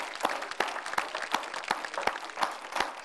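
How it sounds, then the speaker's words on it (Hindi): Studio audience applause on a Hindi comedy show, a dense steady wash of many hands clapping with sharp louder claps standing out throughout, close and continuous. "जरा जोरदार तालियों से स्वागत करें।"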